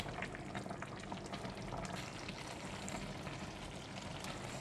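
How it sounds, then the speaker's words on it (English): Claypot yee mee noodles cooking in gravy and being gently stirred, a steady dense sizzle and bubbling that runs without a break at moderate, fairly quiet level. "stir the yee mee carefully without breaking the noodles"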